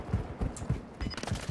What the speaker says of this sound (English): He's shooting another guy.